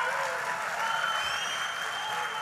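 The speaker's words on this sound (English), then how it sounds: "That was a crowd." A crowd at a presidential address to a county officials' gathering claps and cheers, with dense sustained applause and a few whistles over it, fairly steady throughout.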